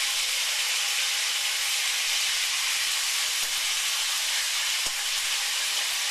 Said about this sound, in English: Bacon! Oh, ow! It's spitting at me.